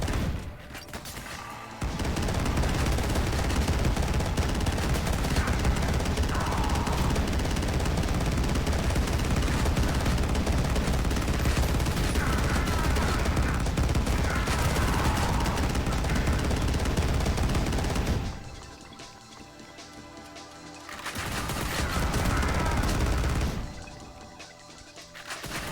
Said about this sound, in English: Now we got shotgun guys in the mix.